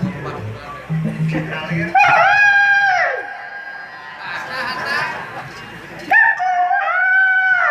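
A voice imitates a Pelung rooster's crow, several long rising-and-falling calls with pauses between them, loud and close, mixed with some excited chatter.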